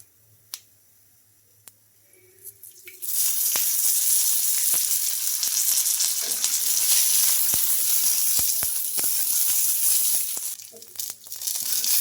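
Chillies, peanuts, ginger and garlic frying in oil sizzle loudly and steadily after a few quiet seconds, with sharp pops and crackles scattered throughout and brief stirring sounds near the end.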